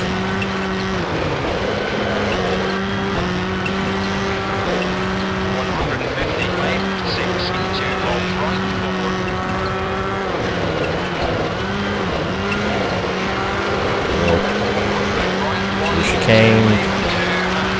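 A Subaru rally car in the WRC II Extreme video game races across a frozen lake on the Swedish Rally, its engine droning steadily and rising and falling with gear changes, with brief tyre noise near the end under continuous commentary.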